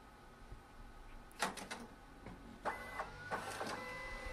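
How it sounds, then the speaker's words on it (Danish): A Citizen OP 900II photo printer runs quietly, giving several short mechanical whirs and feed clicks in bursts, with a faint motor tone between them in a calm room. "Lad os lige en gang se på, hvordan printeren udskriver."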